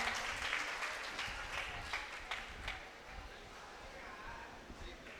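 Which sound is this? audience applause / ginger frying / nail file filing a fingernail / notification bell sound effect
audience applause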